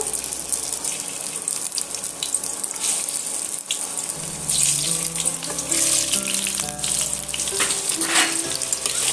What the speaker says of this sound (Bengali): আগে থেকে যে আলুটা সিদ্ধ করে রেখেছিলাম সেটা আমি তেলের মধ্যে অ্যাড করে দেব